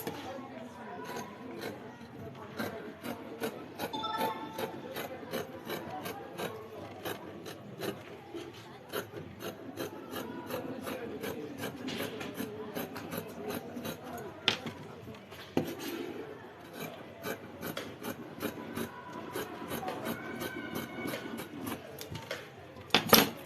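Denim fabric pieces for a dress are cut on a work surface, a faint, close rasping and snipping with rapid repeated scratchy strokes running throughout.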